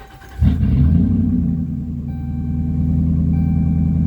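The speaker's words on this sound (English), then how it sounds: "we're just going to start the truck up to show that everything works" A 2012 Ram 1500 pickup's engine cranks and catches after a short pause. It settles into a loud, steady low idle rumble close by that holds to the end.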